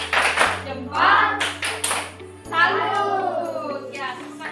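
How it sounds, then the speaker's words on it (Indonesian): A classroom group of children claps a rhythmic 'good job' clap, sharp hand claps in short patterned bursts mixed with taps, with children's and a teacher's voices chanting and speaking throughout. "Sekarang mari kita tepuk good job"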